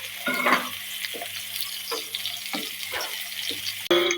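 Chopped onion frying in hot oil, a close steady sizzle with repeated scraping stirs at roughly half-second intervals and a sharp clatter near the end, no talking.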